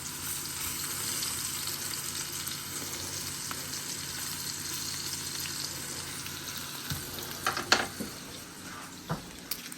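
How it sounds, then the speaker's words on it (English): Vegetables sauté in a hot pan for a homemade cheese steak, sizzling steadily throughout, with a few clinks and scrapes of a utensil stirring near the end. "I saute them."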